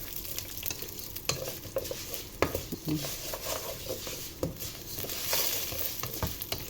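Vermicelli fries in a pan while being stirred for a rice dish, a soft sizzle with repeated scraping and clicking strokes of the spoon against the pan, close and fairly quiet, no voices.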